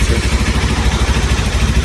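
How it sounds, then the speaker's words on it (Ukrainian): A Zonsen Cyclone motorcycle sits on a cold engine, its exhaust burbling in a steady low, rapid pulse at close range, with no voices over it. "По звуку вихлопа я можу сказати, що вони майже однакові."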